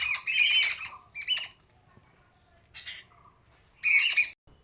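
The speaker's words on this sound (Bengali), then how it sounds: "বিভিন্ন ধরনের পাখির ডাক এখানে শোনা যায়।" Several birds squawk and chirp in a home courtyard in short, sharp bursts separated by pauses, with a brief flutter of wings and a loud final call, close by and clear.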